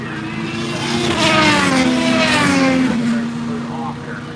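IndyCar race cars during practice at the Mid-Ohio circuit, a loud sustained engine roar that swells and fades as cars pass, with no voices.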